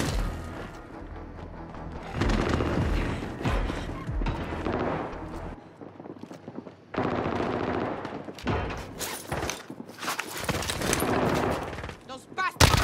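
Gunfire in Call of Duty: Modern Warfare battle royale, repeated loud bursts and booming shots across the whole span, mixed with game radio voices and effects.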